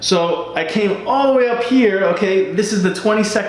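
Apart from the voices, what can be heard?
None of the usual background noises is heard.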